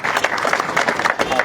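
A crowd of supporters claps loudly at a village political campaign event in India, with sustained applause and a voice calling out over it.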